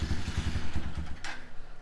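A Motorstar Cafe 150 motorcycle with an out-of-tune carburetor idles after a cold start, its low engine putter pulsing unevenly and close by, with a soft scrape near the end.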